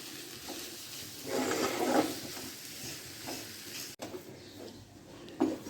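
Mashed potato gets worked into a spiced masala for bird nest snacks, with soft, close, scraping and squelching strokes in uneven bursts and a faint sizzle-like hiss underneath.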